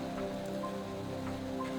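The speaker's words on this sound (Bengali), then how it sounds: "ঝড় হচ্ছে, বৃষ্টি হচ্ছে।" Rain falls during a storm as a cyclone nears Kolkata, making a steady, dense wash of drops on surfaces with a constant background hum and no voices.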